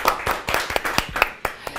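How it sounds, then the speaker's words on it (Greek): Studio audience applauding a floor manager on a Greek television show, a steady run of sharp claps with uneven accents over about two seconds, fairly close and moderately loud. "Πάμε ένα χειροκρότημα για τον Γιαννίκο που είναι στην παρέα μας."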